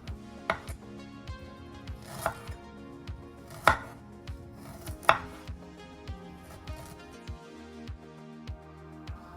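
A knife chops fresh ginger into short matchsticks on a board, giving a run of crisp, close taps in an uneven rhythm with a few louder strikes standing out, set against a quiet kitchen background.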